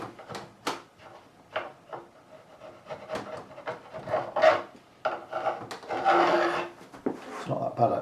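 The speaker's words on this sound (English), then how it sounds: "Get all the glue out of there. That's just something I can use a flat end of a screwdriver." A flat-ended screwdriver scrapes glue out of the channel in a Warwick Corvette Double Buck bass neck, giving short, repeated rasping scrapes up close, with someone talking intermittently between strokes.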